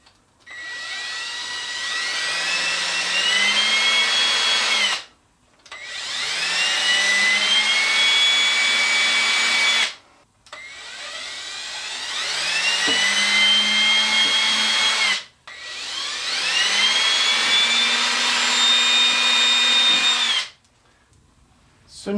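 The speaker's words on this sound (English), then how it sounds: "we're going to drill another hole" A power drill bores holes through a wooden picture frame in four long, loud whining bursts, each motor spin rising and holding steady before cutting off, with brief pauses between.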